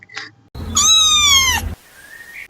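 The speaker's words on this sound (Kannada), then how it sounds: "ಕ್ಯಾಟ್" A cat gives one loud, close, drawn-out meow that rises and then falls, with a faint short mew before it and a quieter trailing sound after it.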